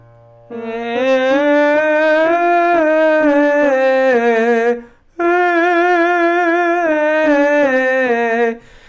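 A singer holds clear, bright sustained notes in a classical-style tone, two long phrases separated by a short breath, loud and close.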